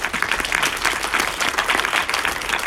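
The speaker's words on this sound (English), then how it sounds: "Let's give them applause" An audience at a sauna forum applauds a panel, a steady dense patter of many hands clapping that holds evenly throughout.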